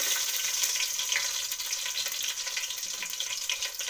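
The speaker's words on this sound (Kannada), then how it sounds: "ಎಣ್ಣೆ ಕಾದಿದೆ ಸಾಸಿವೆ ಹಾಕ್ಕೊಳ್ಳೋಣ ಈಗ ಬೆಳ್ಳುಳ್ಳಿ ಹಾಕ್ತೀನಿ" Mustard seeds and garlic sizzle steadily in hot oil in a pan, a continuous crackling hiss with scattered pops, fairly close and with no voices.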